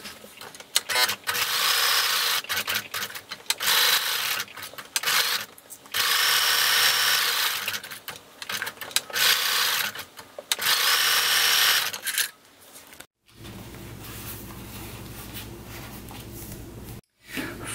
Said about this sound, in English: we're going to sew 1/8 inch around the entire edge, and we're going to sew over the hole so that it closes it